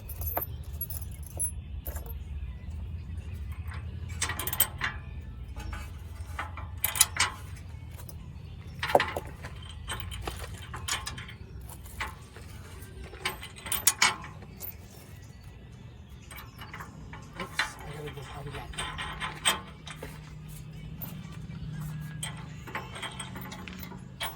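Rear bumper lock nuts on a 2017 Jeep Wrangler are snugged down with a ratchet, heard as intermittent clicking and metallic rattling bursts at close range against a quiet garage background, with no speech.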